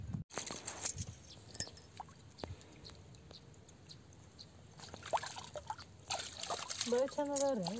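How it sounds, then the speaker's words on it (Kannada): Water trickles and splashes during washing, a light, uneven dribble running in the background while people talk over it, growing louder toward the end. "ನೀರು ಅದಾವು ಸ್ನೇಹಿತರೆ, ತೊಳೆಂಬರ್ರಿ."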